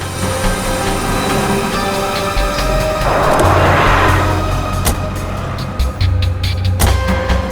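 A car engine rumbling as the vehicle drives, a steady low drone with a rising whoosh midway and a few clunks, fairly loud and close with no voices.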